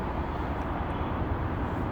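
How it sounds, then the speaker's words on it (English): Outdoors, a helicopter passes overhead as a steady, broad, roaring rumble that holds even and fairly loud throughout, with no voices over it. "Just wait for that helicopter to go."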